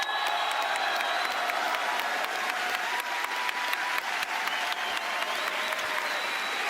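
A live audience applauds as the new creative director of Rainbow Six Siege is introduced, a loud, steady wash of clapping with scattered cheers and whoops from a large crowd.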